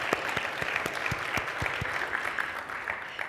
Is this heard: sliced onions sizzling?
no